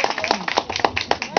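Clapping at a singing contest in Odesa, a brief stretch of distinct, fairly close handclaps in a loose rhythm, with voices mixed in alongside.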